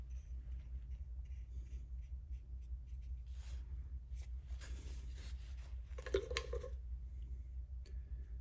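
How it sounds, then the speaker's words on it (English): A scribe scratches bevel grind lines onto a steel knife blank, a faint, intermittent scraping over a steady low hum, with a slightly louder scrape near the end. "And then scribe my bevel grind lines."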